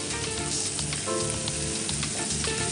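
Green peas frying in a hot pan, a steady, close sizzle that runs continuously without pause and without any voices over it.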